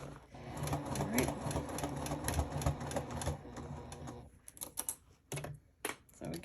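A home sewing machine stitches fabric for a garment pattern, a close steady mechanical whir that stops after about four seconds, followed by separate clicks and handling noises.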